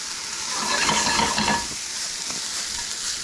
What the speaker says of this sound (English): I'm going to push this Spaetzle batter through the holes